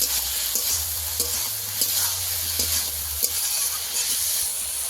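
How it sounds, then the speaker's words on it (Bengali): Ground spice paste sizzles and fries in a pan for snakehead fish with eggplant and potato, a steady close hiss with soft rhythmic scraping of a spoon stirring, plus a low background hum. "ভালো করে কষিয়ে নেব।"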